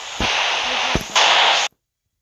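A loud explosion in a video game comes as harsh bursts of roaring noise punctuated by sharp cracks, the second burst fiercest before cutting off abruptly into silence.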